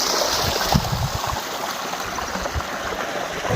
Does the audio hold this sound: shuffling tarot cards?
no